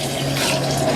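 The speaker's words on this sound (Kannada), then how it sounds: "ನೀರು ಹಾಕಿದೆ." Hot water pours steadily onto millet grains in a kitchen pot, a continuous close splashing stream with no voices.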